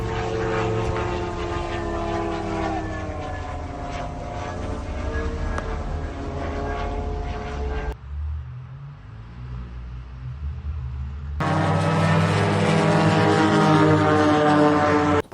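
A massive swarm of drones flies overhead, a loud sustained engine drone with layered buzzing tones that drops away briefly in the middle before returning even louder.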